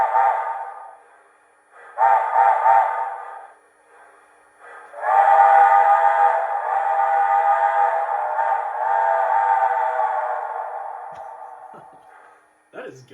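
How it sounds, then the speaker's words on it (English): The whistle of an MTH HO-scale Empire State model locomotive blows in several blasts: two short toots, then one long, sustained wail that slowly fades, heard up close. "That has got to be the nicest sounding MTH whistle ever."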